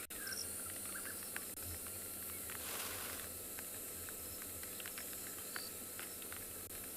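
Evening chorus at sunset on a Kalahari safari, a steady dense wash of crickets and cicadas with frogs calling through it, continuous and fairly loud from start to end, with brief scattered chirps over the drone and no talking.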